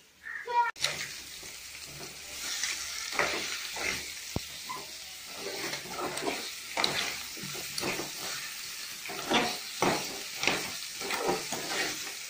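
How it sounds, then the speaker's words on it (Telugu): Ginger garlic paste frying and being stirred in a pan while making a crab fry, with a steady sizzle and repeated scraping stir strokes running throughout, close and fairly loud. "ఇప్పుడు ఈ అల్లం వెల్లుల్లి పేస్ట్ దీంట్లో వేసుకున్నామండి. వేసుకొని బాగా తిప్పుతాను దీన్ని."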